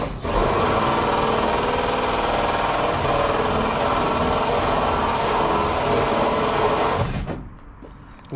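A power drill runs continuously as it bores through the carpet-lined wall of an overland trailer, a loud steady whine that cuts off abruptly near the end.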